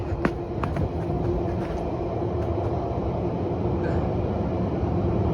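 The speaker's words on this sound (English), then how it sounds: "I'm actually standing like right beside a GO train" A GO commuter train rumbles steadily nearby, a broad continuous roar with brief clanks and squeals over it, holding the same level throughout.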